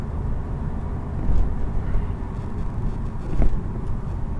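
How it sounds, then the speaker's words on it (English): A twin-charged Volkswagen Golf drives along a mountain road, its engine holding a low, steady hum inside the car, swelling briefly twice as the throttle opens. "I've never driven a supercharged car before"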